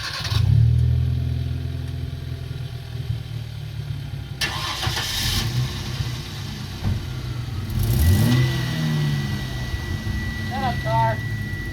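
A V6 Mustang and an inline-four Hyundai Veloster crank and fire up one after the other, engines rumbling and revving steadily up close, with voices talking over the running cars.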